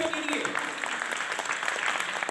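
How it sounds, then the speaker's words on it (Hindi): An audience claps for child contestants at the Honehar Pakistan Quiz 2020 final, a steady, close, full wash of applause with a voice talking over it. "तालियां रुकनी नहीं चाहिए बच्चों के लिए।"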